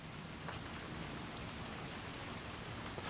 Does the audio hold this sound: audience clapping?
no